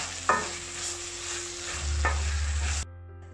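Chickpea curry with grated coconut stirred in a pan, giving a soft continuous sizzle and a couple of distinct spoon scrapes, close and unvoiced, before a low hum takes over and the sound cuts off abruptly.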